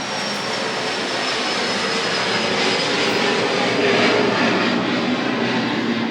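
Steady, loud roar of a jet aircraft flying overhead, a broad continuous rumble that swells slightly toward the middle and fades a little at the end, with no talking over it.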